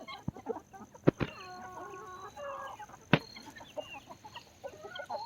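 Roosters cluck and chatter close by, with several sharp clicking taps and soft vocal murmurs scattered over a quiet farmyard background.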